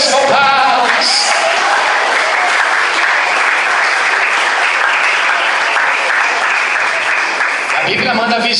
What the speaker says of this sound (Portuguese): Então glorifica a Deus com palmas.